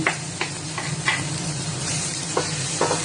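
Ginger and garlic sizzle steadily in hot oil while being stirred in a pan, with periodic scraping strokes of the spatula cutting through the constant frying hiss.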